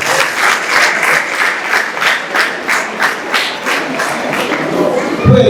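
A crowd at a church choir's 21st jubilee celebration applauds and ululates for the parents, dense rhythmic clapping with high trilling cries layered over it, loud and close throughout.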